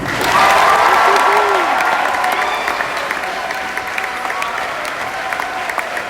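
Crowd applause for Corey, a pediatric cancer survivor, at a volleyball hero walk event, dense steady clapping with light cheering and voices filling the gym, fairly loud throughout.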